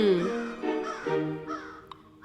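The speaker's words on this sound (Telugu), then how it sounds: "అదిగో ఆ కాకి తెగరుస్తుంది" A crow caws harshly several times in quick succession, the calls loud and close, with a faint background murmur between them.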